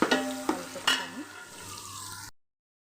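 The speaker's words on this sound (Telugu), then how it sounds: "చికెన్ పీసెస్ వేసుకొని కొంచెం కలుపుకుందాం" Chicken pieces stirred in hot oil in a pan: a few sharp scrapes and knocks of the spoon over a bright, crackling sizzle that then settles to a steady hiss before cutting off abruptly.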